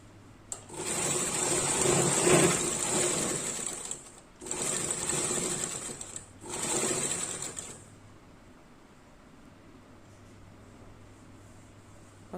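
A sewing machine stitching lace trim onto a Punjabi suit runs loudly in three bursts: a long whirring run, a short pause, then two shorter runs, before falling quiet.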